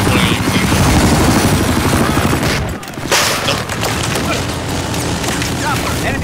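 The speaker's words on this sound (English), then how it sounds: "Chopper! Enemy chopper!" An enemy helicopter roars overhead in a Battlefield 4 multiplayer match on Parcel Storm, loud rotor thrum mixed with bursts of gunfire and explosions, briefly dipping before the din resumes.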